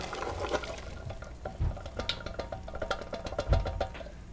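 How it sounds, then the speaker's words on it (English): Carrot and turnip being added to a willow ptarmigan soup that has simmered for nearly two hours, with a couple of soft dull thuds and clinks over a steady bubbling, stirring hiss, close by with no talk. "now I'm going to add some carrot and turnip"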